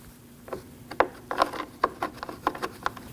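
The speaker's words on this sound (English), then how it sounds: "Now install your bolt." A bolt being installed on a Honda CR-V headlamp assembly produces a rapid series of close, dry scraping and clicking sounds, like threading and ratcheting, uneven in rhythm and heard alone.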